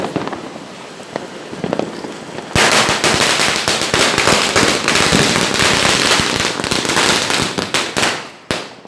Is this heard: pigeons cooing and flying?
no